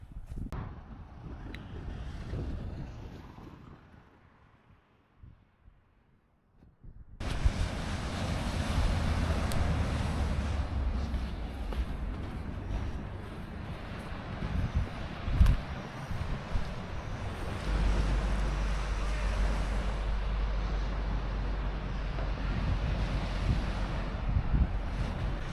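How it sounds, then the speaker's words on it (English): Ocean waves and wind at a beach near Gerringong, starting as a softer rumble, then a sudden shift to loud, continuous surf roar mixed with heavy wind buffeting on the microphone, with occasional louder gusts. "just in front of me is the beach"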